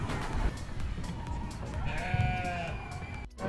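Sheep at Flying Cow Ranch in Miaoli, Taiwan, give a drawn-out wavering bleat over a steady outdoor background of wind and distant crowd noise, with a brief quieter break near the end.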